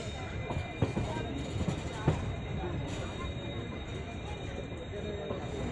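Train rolling over newly laid track in the remodeled Dehradun station yard, a steady near rumble with occasional wheel clacks and light squeal, while people talk over it.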